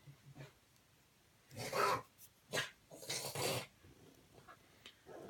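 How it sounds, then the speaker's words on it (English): A dog with rhinitis snorting and snuffling through its nose indoors, a few harsh raspy bursts separated by pauses, quiet and close. "That's my dog with rhinitis."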